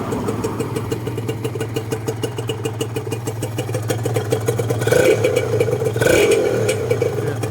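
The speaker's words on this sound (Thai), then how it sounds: "เครื่องก็ถือว่าเสียงก็โอเคอยู่ มีเสียงคัดดังบ้างก็เป็นปกติ" A Honda NSR150SP motorcycle engine idles steadily at close range with a throbbing low rumble, some knocking normal for it, rising briefly in a couple of louder revs toward the end.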